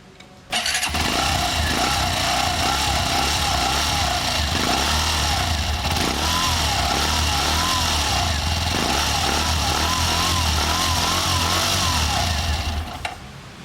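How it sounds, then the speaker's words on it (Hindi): A Hero Glamour X motorcycle engine cranks and catches, then settles into a steady, loud idle that runs evenly and close by with a faint wavering whine, before cutting off at the end. "अब एक बार हम आपको ग्लैमर एक्स का साउंड सुनवा देते हैं, गाड़ी को स्टार्ट कर लेते हैं।"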